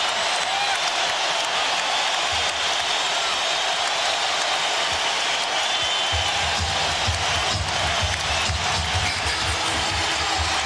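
A basketball arena crowd roars and cheers steadily as the Sacramento Kings close out a 2004 NBA playoff win over the Wolves, a loud dense wall of noise under commentators talking.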